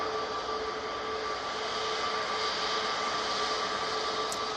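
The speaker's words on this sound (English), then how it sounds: "And we've got Jet 2 321neo coming in front of us." A Jet2 Airbus A321neo airliner coming in to land at Manchester Airport, a steady distant roar with a faint whine, heard alone at low level throughout.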